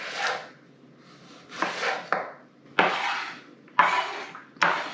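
A knife thinly slices large, spring-onion-like onions on a board in a few distinct, separate strokes, each a crisp crunching cut ending in a sharp tap, close and alone.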